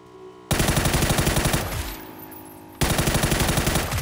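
Rapid automatic gunfire from a video game, loud bursts of shots in a fast steady rhythm, pausing briefly before another burst resumes.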